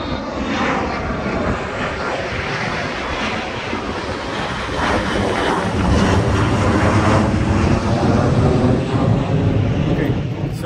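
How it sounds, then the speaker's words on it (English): A fixed-wing airplane flies overhead near Miami airport, its loud, steady engine roar filling the whole stretch and swelling slightly louder in the second half, with no talking. "Here's a plane behind me."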